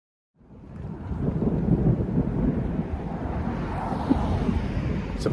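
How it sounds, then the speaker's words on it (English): Low, rumbling thunder rolls in and lingers over Hartman Creek on the Ice Age Trail, a broad distant boom with some wind noise over the microphone. "Some thunder booming."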